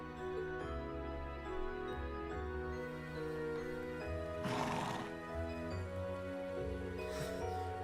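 In the game Trails of Cold Steel 2, a horse whinnies loudly twice while hooves clip-clop along a mountain path beneath a steady musical backdrop.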